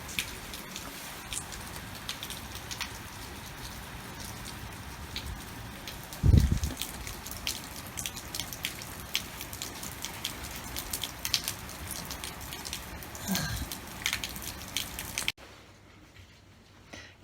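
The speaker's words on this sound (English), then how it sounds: "it's chucking it down, so we're going to get wet" Heavy rain pours down outside, a continuous dense patter of drops close by with a few louder splashes, fairly quiet overall and fading abruptly near the end, with no talking.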